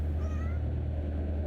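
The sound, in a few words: cat meowing in video game Kentucky Route Zero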